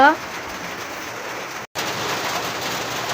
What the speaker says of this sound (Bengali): এই যে দেখুন কি বৃষ্টি হচ্ছে বৃষ্টি আরম্ভ হয়ে গেল